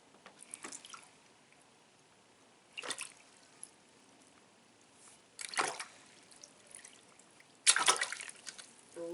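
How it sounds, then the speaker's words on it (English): Paddle pushing water in a shallow tank filled about 1.5 inches deep, making a few separate splashing, sloshing bursts with quiet gaps between them. "we are using a paddle to first demonstrate an"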